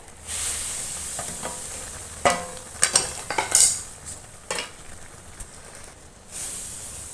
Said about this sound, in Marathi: आता हे पूर्ण आपण एकजीव करून घेऊया